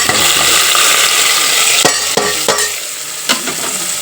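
Shallots and curry leaves sizzle and crackle in hot coconut oil, being tempered for a fish curry; a steady loud frying hiss with a few sharp stirring clinks and scrapes near the end, no voices.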